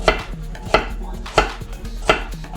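A knife chops carrots on a cutting board during home cooking of an Instant Pot roast beef: four sharp, evenly spaced thuds in a steady rhythm, close and clear, with no talking.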